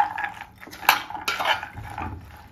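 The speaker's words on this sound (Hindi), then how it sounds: "ग्रीन पीस को जो अच्छे से मैं मसाले में मिक्स कर ले रही हूँ" A spoon scrapes and clinks against a pan as green peas are stirred into masala, giving a few short, fairly soft clatters and scrapes with no voices.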